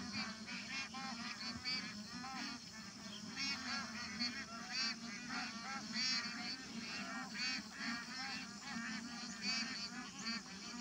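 A large flock of about 2000 domestic ducks calls together outdoors, a continuous, faint, overlapping chorus of honking quacks with no pauses.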